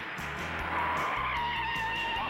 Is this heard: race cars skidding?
yes